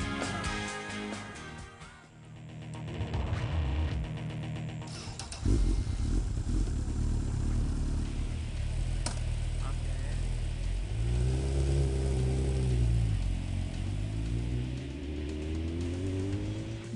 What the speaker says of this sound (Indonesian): Motor sport bermesin 1000 cc ini jadi tunggangan favoritnya.